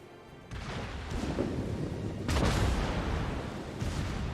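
Naval gunfire in the World of Warships game, two heavy booming salvos about two seconds apart, rolling and fairly muffled, with no voices over them.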